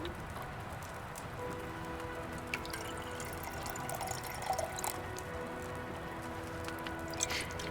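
Liquid is poured during alchemy in Kingdom Come: Deliverance II, a faint, continuous trickle and drip like water splashing into a vessel, quiet and steady throughout with soft sparkling splashes.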